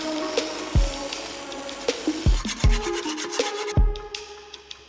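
Sanding the end of a steel bike frame tube for a hand-built hardtail, with repeated scraping strokes in an uneven rhythm, close and fairly loud, ending with a few light knocks.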